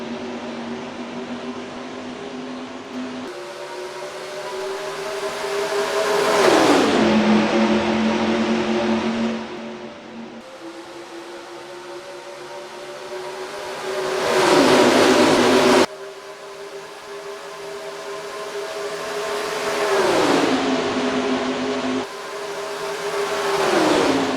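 Race cars in NASCAR Racing 2003 at Las Vegas Motor Speedway take the green flag for the Home Depot 400, engines swelling and fading in loud repeated waves as the pack accelerates past.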